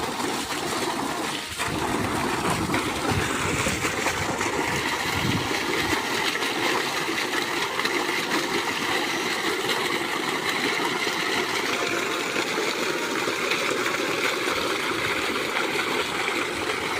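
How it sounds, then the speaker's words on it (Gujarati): Well water from a farm borewell gushes out steadily in a loud, continuous rushing splash that holds throughout, with no speech over it. "પાણી આવી ગયું।"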